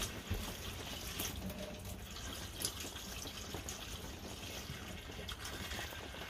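Water runs from a tap into a canister of acorns set up for cold leaching, giving a faint, steady trickle and splash with a few small drips and knocks, and no talk.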